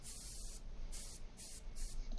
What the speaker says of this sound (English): So that's a spray can.